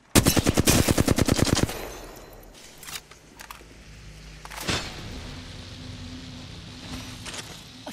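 Apex Legends gameplay: a rapid burst of automatic gunfire opens loudly, followed by a few scattered single shots and impacts against a quieter in-game background.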